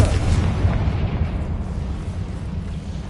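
Hogwarts Legacy's Confringo blasting spell detonates in a heavy rumbling boom that is loudest at the start and fades into a long, low, rolling decay.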